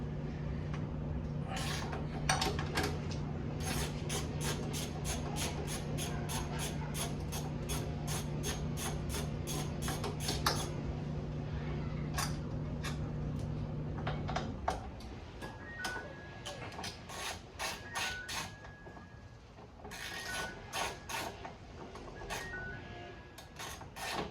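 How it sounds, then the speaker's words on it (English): Two 10mm bolts are removed from a motorcycle's rectifier, with a rapid train of close metallic ratchet clicks over a steady machine hum that then cuts out, leaving further bursts of ratcheting and faint background tones. "So we're just gonna take this rectifier off with 2 10mm bolts."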